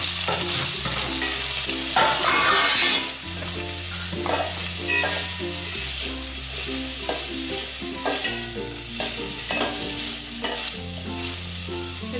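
Two chopped large onions fry and get stirred in a pan with green chillies while a fish kulambu is being made: steady loud sizzling with repeated scraping stir strokes, no talk.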